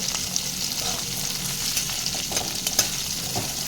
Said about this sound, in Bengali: এখানে সজনে ডাটাগুলোও ভাজতে দিয়েছি